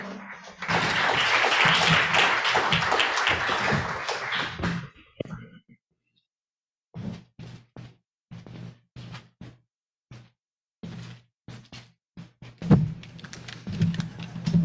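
Audience applause welcoming a speaker at the Korean-language closing ceremony of the 22nd BIEN congress: a dense burst of clapping for about five seconds, fading out and followed by scattered knocks and sparse sounds.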